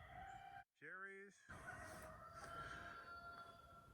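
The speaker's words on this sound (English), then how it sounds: "You can hear a rooster." A rooster crows once, a short rising call heard fairly near at an Alaskan property with an apple orchard, over a hiss of outdoor background noise.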